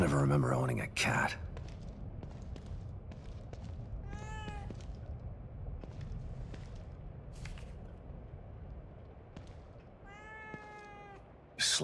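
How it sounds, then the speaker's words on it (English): A cat meows twice in The Evil Within 2 horror game, two clear rising cries several seconds apart over a low, murky ambient hum, with a brief clatter at the very start. "A cat."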